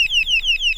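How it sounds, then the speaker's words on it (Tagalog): Electronic alarm goes off loudly and close, a rapid repeating series of descending high-pitched chirps, about five in under a second. "Putagis, nag-alarm. Hindi ko na mapatay."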